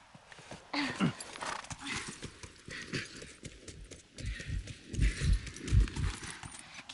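Video game horse hooves in The Last of Us clip-clop in a quick, uneven rhythm, getting louder and heavier toward the end, over a faint hiss.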